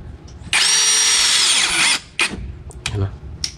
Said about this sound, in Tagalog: Lagay ko na yung screw.